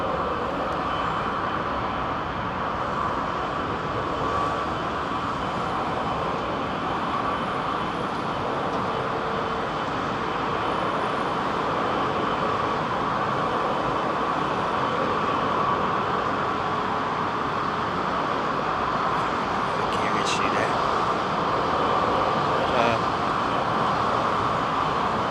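An airliner outbound to Miami rolls for takeoff at London Heathrow, a steady broad jet roar that holds at a distance and builds slightly toward the end.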